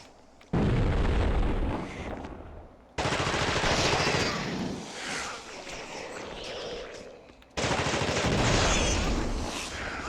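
Grenade blasts boom in The Thing video game, three loud explosive bursts, each ringing out with a long rumbling tail before the next.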